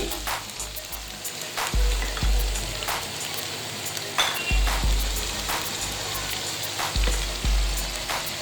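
Chopped tomatoes and green chilies fry in a pan for beef pulao, a steady crackling sizzle with repeated scraping stirs and thumps from the spoon, close up.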